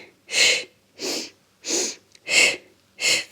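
A Pilates exercise brings five sharp, forceful exhales through the nose and mouth, evenly spaced about every 0.7 seconds, close and loud, with no speech between them.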